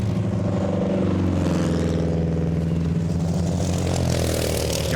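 Vintage Edwardian racing cars rumble past down the pit straight, a dense mix of clattering, throbbing engines sounding loud and continuous with no talk.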